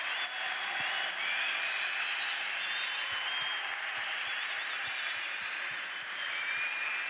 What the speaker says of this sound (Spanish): os voy a pedir un fuerte aplauso para Vito Quiles y para Víctor Domínguez